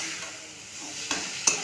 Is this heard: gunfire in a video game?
no